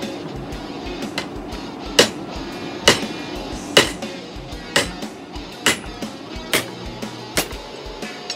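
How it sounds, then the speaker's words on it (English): A large ball peen hammer strikes hot leaf spring steel during hand forging, landing about a dozen sharp, ringing blows in a steady rhythm just under a second apart, close and loud. "I'm just using a large ball peen to start flattening this metal out"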